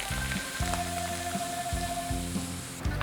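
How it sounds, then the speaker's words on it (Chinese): Hot oil poured over minced ginger, chili, coriander and white sesame gives a sharp sizzle and crackle, with low tonal music running underneath and no talking. "把烧好的油淋进来"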